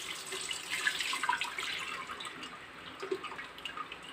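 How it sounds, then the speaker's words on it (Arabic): Ghassoul clay mixture poured with water through a kitchen sieve, a close, steady trickle and drip of liquid with small splashes, continuous and moderately quiet with no talking. "دابا كنعاود ندوزو في الصفايه ملي رقدتو في الماء، كنعاود ندوزو في الصفايه."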